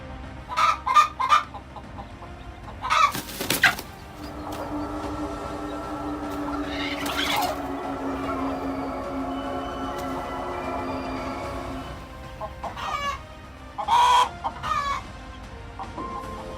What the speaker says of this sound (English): chicken is also protecting its eggs from a snake